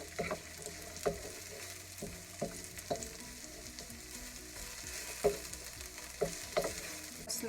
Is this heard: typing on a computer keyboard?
no